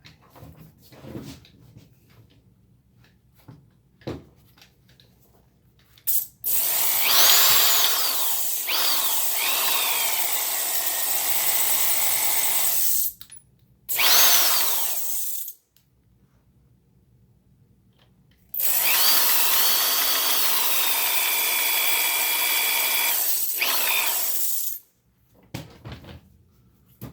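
A power drill bores a hole in a harmonica slider for a Seydel Saxony, whining steadily in two long bursts with a short one between, close and loud, with faint handling clicks beforehand.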